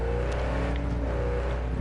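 Car traffic in Cyberpunk 2077, a steady engine drone with a rising whir, close and continuous, as if a vehicle were revving or passing nearby, with no talk.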